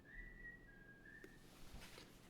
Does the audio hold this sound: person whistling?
yes